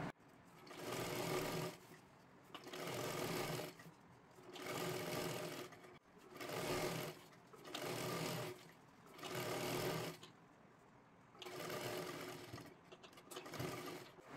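Sewing machine stitching a hem on a small girl's lehenga: seven or eight bursts of rapid whirring stitching, each lasting about a second, separated by short pauses, close and clear with no talk.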